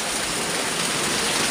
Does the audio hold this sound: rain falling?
yes